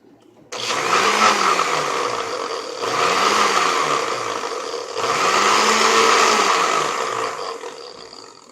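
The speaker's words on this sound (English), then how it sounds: "Okay, there we have our blended grapes." A countertop blender whirs loudly while blending grapes, running in three surging bursts, each with a rising then falling motor pitch, steady and close with no talking.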